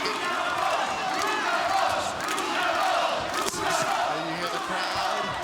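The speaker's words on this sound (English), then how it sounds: "And you hear the crowd. All the Brits are sitting together. So that's why it's loud." Loud crowd of British fans chanting and cheering at a boxing match, a dense roar sustained throughout with swells and brief dips.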